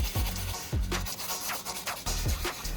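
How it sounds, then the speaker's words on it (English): Charcoal rubbed against sandpaper to grind it into fine powder, with repeated rough scraping strokes in an uneven rhythm, close and fairly loud. "Rub the burnwood gently against the sandpaper until it turns into fine powder."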